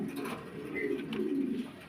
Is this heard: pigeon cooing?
yes